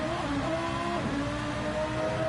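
A race car engine at Mount Panorama revs steadily with a whining, rising tone, heard continuously at moderate distance without talk.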